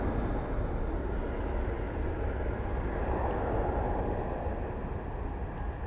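A distant Airbus A321neo jet airliner gives off a continuous broad roar at Manchester Airport. The sound stays steady and moderately faint throughout, with no voices.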